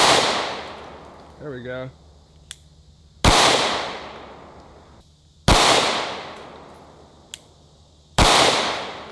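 Three loud, sharp 9mm gunshots a couple of seconds apart, each cracking hard and ringing off as rounds strike a cheap Sentry safe, with a brief spoken remark between shots.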